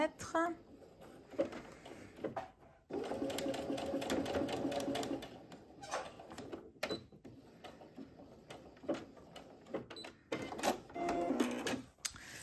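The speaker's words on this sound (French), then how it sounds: "je vais faire une petite couture, enfin une petite surpiqûre à 1 mm" A sewing machine topstitches a sports bag 1 mm from the edge, running in a few steady bursts of rapid stitching with pauses and handling noises between them. Brief talk is heard.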